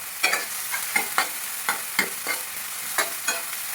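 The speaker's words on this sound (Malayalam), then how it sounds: "തക്കാളി ഇട്ട് വെണ്ടയ്ക്ക ഇട്ട് കറിവേപ്പില ഇടാം. ഇതിനെ നല്ലപോലെ വഴറ്റാം." Tomato, okra and curry leaves sautéing in a pan, a constant loud sizzle with regular stirring scrapes of the spoon every fraction of a second.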